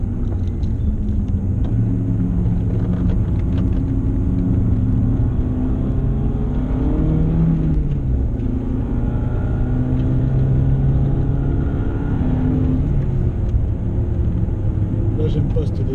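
Car driving along a road with a steady loud engine rumble and low road noise throughout, engine note shifting slightly as it moves, while people chat inside the cabin over it.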